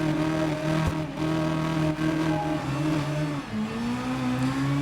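A motorcycle engine revs steadily in the Ride 5 racing video game on PS5, a loud, continuous high-pitched whine with shifting pitch and a brief dip near the end, with no speech.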